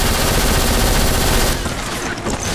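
Heavy weapons fire from the shooter video game BLACK: a dense, loud barrage of rapid gunshots that rolls continuously, then thins out into scattered bursts near the end, with no talking.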